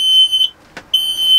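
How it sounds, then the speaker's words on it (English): A smoke alarm sounds in a smoky garage during a Saito FA-62B model aircraft engine run: a loud, piercing high-pitched beep, a short break with a brief click, then the beep again. "My alarm's about to go off"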